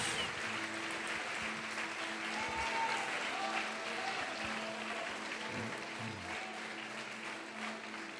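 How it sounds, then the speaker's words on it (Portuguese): Church congregation applauding during a worship service, a steady wash of clapping from a large crowd, somewhat distant and even in level throughout. "Pode aplaudir e glorificar a Deus."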